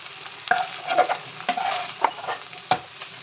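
Spice paste hitting hot oil in a wok, with a steady sizzle under repeated stirring and several sharp clinks of a utensil against the metal.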